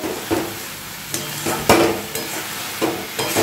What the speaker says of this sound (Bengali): যে চচ্চর আওয়াজ হচ্ছে ঘোরালে পরে, তার মানে হচ্ছে জলটা এখনও আছে